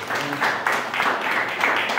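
A church congregation applauds in a steady, continuous wash of clapping that carries through the short span with no clear break.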